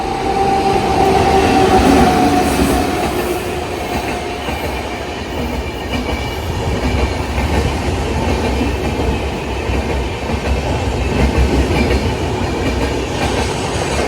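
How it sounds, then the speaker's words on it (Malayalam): The Netravati Express rolls past at a Kerala island railway station, a loud, continuous rumble with rhythmic clatter of wheels on rail joints lasting throughout, no voices. "നേത്രാവതിയാണ് പോകുന്നത്."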